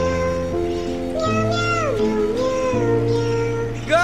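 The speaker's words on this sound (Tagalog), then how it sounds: "Pusang galang meow yun" In the video game GTA V, a cat meows repeatedly in several drawn-out, wavering cries, loud and close, over a low steady background hum.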